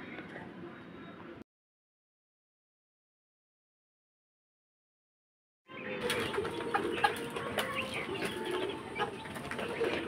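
Chickens and week-old chicks at feeding time, a dense busy texture of clucking, peeping and scratching that returns after a few seconds of silence and fills the rest of the clip.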